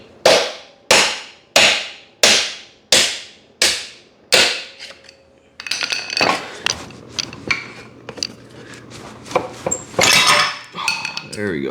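A steady run of about eight loud, sharp metallic hammer blows drives the rusted center stand shaft out of a Zuma scooter. Scraping, clanking and a few softer knocks follow.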